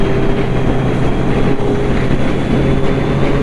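A Kawasaki Z900 motorcycle engine droning steadily while riding on the road from Karimnagar to Siddipet, a loud continuous hum mixed with rushing wind noise, no talking.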